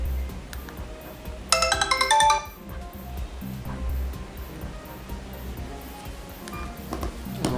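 Tones from an iBall Aasaan senior mobile phone dialing customer care on speakerphone: a quick run of bright beeping tones rises out of quiet background hiss, then the line falls back to faint low noise.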